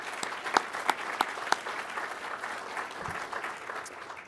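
An audience at an Air Force undergraduate pilot training graduation applauds aircraft maintainers with light, scattered clapping, a few sharp claps standing out early before fading into a softer patter.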